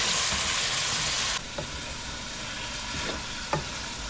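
Onion and garlic sizzle in a pan, a strong hiss at first that drops suddenly to a softer frying crackle, with a few clinks and scrapes of stirring.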